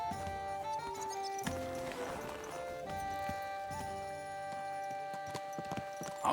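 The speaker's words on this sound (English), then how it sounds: "Get on your horse" Horse hooves clip-clop steadily in Kingdom Come: Deliverance II, close and rhythmic, with musical tones ringing over the walking gait.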